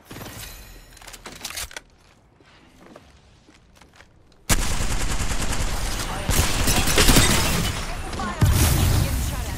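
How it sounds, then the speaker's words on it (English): Video game gunfire comes in scattered shots and faint background noise at first. It then turns into a loud, dense barrage of rapid automatic fire and blasts, continuous and close. "You're in view of the enemy. Firing."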